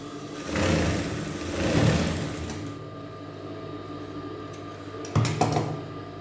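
A sewing machine stitching a petticoat hum in two short motorised runs near the start, then a brief burst near the end with a softer mechanical whir between.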